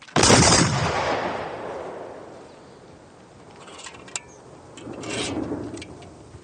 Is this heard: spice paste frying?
no